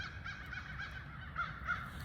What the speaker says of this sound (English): I think they're crows.